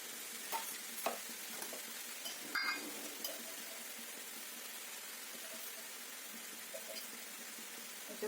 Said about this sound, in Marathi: पूर्ण आपण फ्राय करून घेऊया